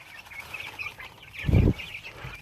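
A short, low burst of clucking from a nearby chicken stands out over a quiet outdoor background with faint high chirps.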